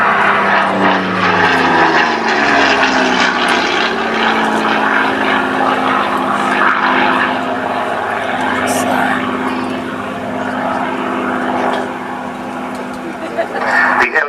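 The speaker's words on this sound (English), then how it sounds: "It's a Mark 9 Spitfire with clipped wings" A clipped-wing Supermarine Spitfire Mark 9 (LF-9E) flies at an air show, its piston engine roaring loudly and shifting in pitch as it passes, with a commentator talking over the sound.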